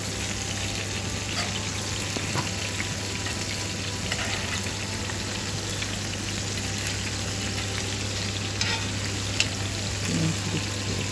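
Chicken leg puffs frying in hot oil, a steady close-up sizzle and crackle that holds evenly throughout with a constant low hum underneath and no voices.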